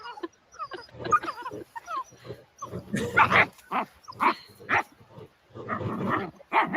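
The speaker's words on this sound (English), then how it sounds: "You gotta really be on point with these puppies." American Sentinel puppies in training bark, yip and whimper in short excited bursts, close and fairly loud, with a few brief spoken words mixed in.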